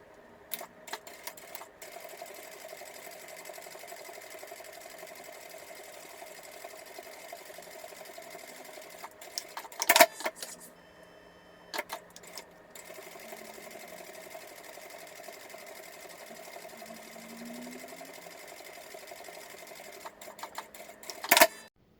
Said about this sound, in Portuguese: Vou passar mais uma costura de pesponto paralela a essa que eu acabei de fazer.